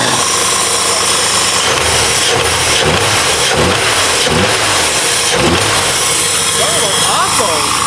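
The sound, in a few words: car engine with big cam running, rattling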